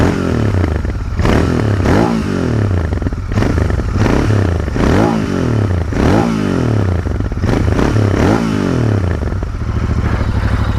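A Royal Enfield Interceptor 650 motorcycle runs loud and close, its exhaust note repeatedly blipped up and dropping back in a regular series of revs over a steady burbling idle.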